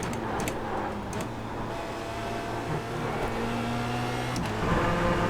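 Formula Renault 2.0 race car engine in the iRacing sim, a steady high whining drone with shifting revs and other cars' engines mixed in, loud and continuous without talk.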